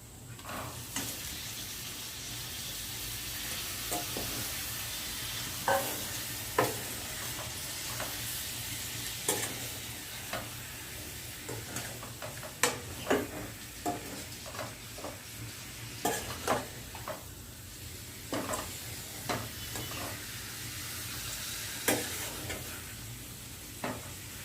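Chicken for pulao sizzles quietly in a pan, with a soft steady fry throughout and occasional sharper scrapes and clinks as a spoon stirs it.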